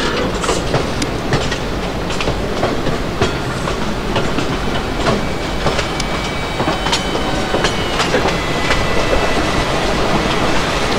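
A train rolls past in the Open Rails simulator on an Indian line toward Bhusaval, with steady rail rumble and repeated clickety-clack wheel beats throughout, loud and close.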